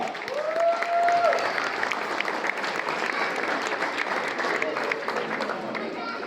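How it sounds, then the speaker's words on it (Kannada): An auditorium audience at a community cultural event in Dubai claps steadily in a sustained round, with a voice speaking over the applause at the start. "ರಾಜಶೇಖರು ಅವರಿಗೆ ಮಲ್ಲ ಚಪ್ಪಾಳೆ"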